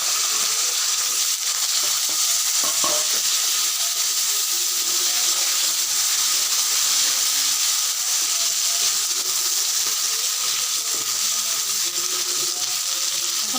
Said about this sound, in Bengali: এখন আলুগুলোকে একটু ভালো করে ভেজে নিব।